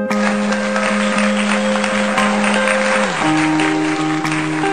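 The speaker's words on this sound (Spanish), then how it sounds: "Pueden parar de aplaudir" Dense, steady applause fills the whole stretch at close range, loud and unbroken, with faint sustained tones running underneath.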